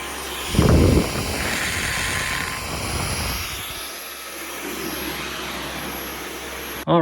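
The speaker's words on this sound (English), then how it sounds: "very pleased with the sound of this new vacuum" New Dyson cordless stick vacuum running indoors, a steady whirring motor hum with a brief louder surge near the start, continuing alone until it cuts off abruptly at the end.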